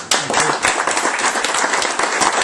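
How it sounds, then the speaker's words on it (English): An audience applauds after a speech at the House of Commons, with close, loud, dense clapping that starts abruptly and carries on steadily. "please give Sarah a round of applause"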